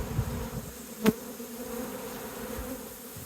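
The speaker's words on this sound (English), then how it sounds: "there is a substantial amount of bees on the lid" Steady buzzing of many honeybees around a hive being filled, a continuous insect drone close by with one brief louder swell partway through.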